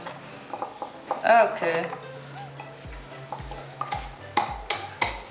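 Ginger and garlic are ground for pilau in a series of rhythmic thuds and scraping strokes, with kitchen clatter and a brief spoken word early on.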